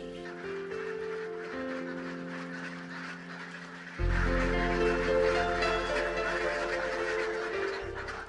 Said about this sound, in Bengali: এগুলো অ্যাকচুয়ালি হচ্ছে আমাদের হোয়াইট পেকিং হাঁস